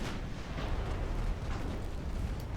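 Naval battle in a dreadnought-era warship game: heavy rumbling cannon fire and torpedo explosions merge into a continuous low roar of booms, dense and distant-sounding throughout.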